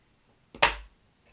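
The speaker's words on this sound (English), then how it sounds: "because you got to trim this, and then in with your scissors" Scissors snip once, a single short crisp cut close up, as pheasant tail fibres are trimmed on a slow-sinking buzzer fly during fly tying, with a quiet room around it.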